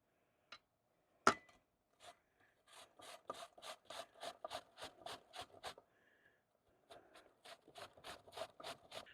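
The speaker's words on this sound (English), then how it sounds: "we're going to grate these apples" Apples are grated by hand for a raw apple cake in a quick series of close, crisp rasping strokes. There is one sharp knock near the start, then a short pause partway through before the strokes resume. No one speaks.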